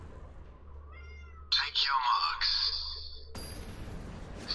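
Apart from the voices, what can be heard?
cat meowing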